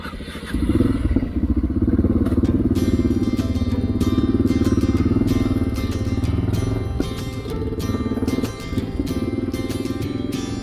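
A motorcycle engine idles and revs on a country lane after a restart, a loud, close, steady rumble with rhythmic chugging and occasional clatter throughout, no talk.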